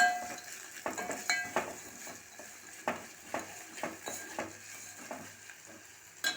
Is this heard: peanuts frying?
yes